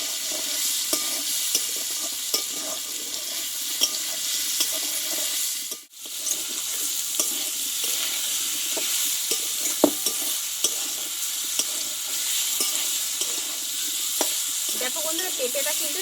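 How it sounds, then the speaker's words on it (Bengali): Papaya pieces being sautéed with salt in a pan, a steady sizzle with the spoon scraping and stirring close by, and a brief dip in the sound midway. "আমি আরও এক মিনিট মতো ভালোভাবে কষিয়ে নেবো পেঁপেটাকে"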